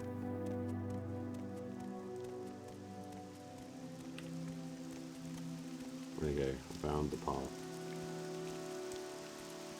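Steady rain falls in Morrowind, a continuous hiss over low game ambience and music, with a short burst of speech partway through.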